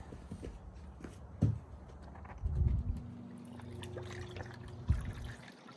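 Water moves through the filters of an Arctic Spa hot tub after the pump is switched on, a quiet gurgling trickle broken by a few louder sloshes and thumps up close.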